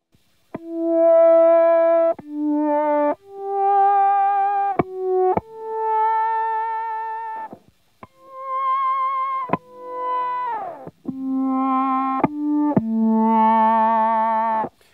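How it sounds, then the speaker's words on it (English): Synth-like electric guitar tones through a bass synthesizer pedal, a series of sustained harmonic-rich notes with sharp attacks and gliding pitches, loud and played alone with no voices. "we're gonna be hearing a synthesizer sound"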